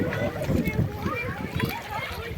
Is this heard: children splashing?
yes